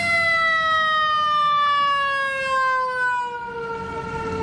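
A fire truck siren wails loud and close in a steady electronic tone that glides slowly downward, with a vehicle rumble underneath and no voices.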